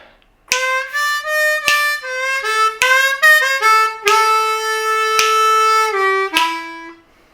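A blues harmonica plays the bending, wailing intro lick of a song, several sustained notes and slides, loud and close, with no talking.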